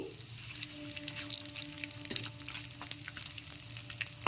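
Bay leaves, cinnamon, dried red chillies, cardamom and cumin fry in oil for a vegetarian aloo dum, giving a faint, close sizzle with scattered stirring clicks and scrapes and no talk.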